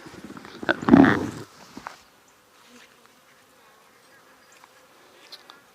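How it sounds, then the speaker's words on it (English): Insect buzzing close around a beekeeper's veil while nucs are installed, a loud burst for about two seconds at the start, then fading to faint background noise. "Oh, I got a bee in my bonnet."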